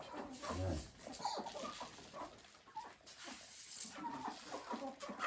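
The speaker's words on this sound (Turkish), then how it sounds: "Ayşe Tavuklarımızı yemleyelim" Chickens cluck softly nearby while feeding, with shuffling and light rustling throughout; a dog-like whimper may briefly mix in.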